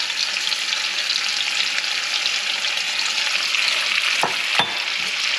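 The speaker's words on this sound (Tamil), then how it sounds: "எண்ணெயில் போட்டு கொஞ்சம் பொரிஞ்சதுமே இந்த நம்ம மசாலாவும் இது கூடவே" Eggs and masala fry in oil in a kadai with a loud, constant sizzle, broken near the end by two sharp spatula scrapes; no one speaks.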